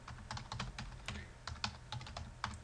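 A username and password are typed on a computer keyboard in a quick, uneven burst of close, crisp key clicks, faint overall and without talk.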